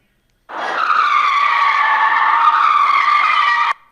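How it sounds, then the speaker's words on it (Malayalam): Car tires skidding on a highway as a sound effect: one loud, sustained squeal that starts abruptly after half a second, holds a steady pitch for about three seconds and cuts off sharply. "കാറ് ഹൈവേയിൽ സ്കിഡ് ചെയ്യണ ഒരു എഫക്റ്റാണിത്."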